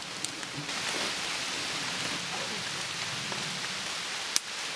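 Rain falling outdoors during a walk among friends, a steady soft patter and wash of drops heard at a moderate distance, faint and even throughout, with one brief louder tap near the end and no speech.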